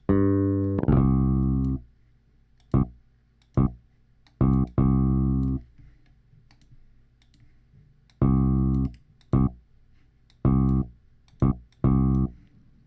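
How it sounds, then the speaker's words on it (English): A synthesized boo bass instrument played from a piano roll sounds a series of deep, tonal bass notes in short bursts, some long and some clipped, with uneven gaps of silence between them. "Let's make this a boo bass."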